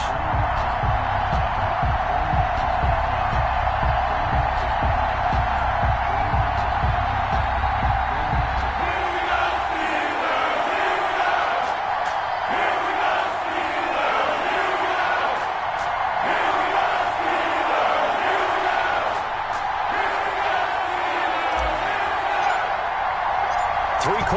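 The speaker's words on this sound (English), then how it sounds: "This crowd is ready as their guys get set to match up" A football stadium crowd cheers and roars in an NFL video game at a Pittsburgh Steelers home game, a loud, steady wash of crowd noise, with low thumping early on and occasional whoops rising above it.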